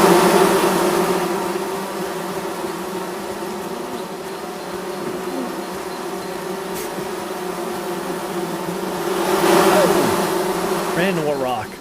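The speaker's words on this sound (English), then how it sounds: "Oh, more bees." Bees buzzing steadily and close outdoors among trees, a continuous drone that swells louder toward the end.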